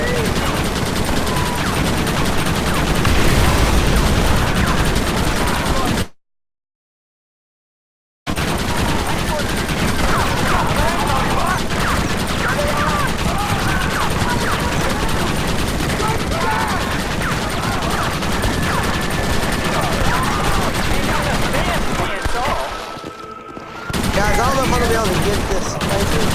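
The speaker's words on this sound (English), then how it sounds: "Why are they all shooting at me?" Dense gunfire from the Red Dead Redemption 2 video game, with rapid overlapping shots and bursts packed continuously throughout, loud and sustained, briefly cutting out once and dipping near the end, with voices talking over it.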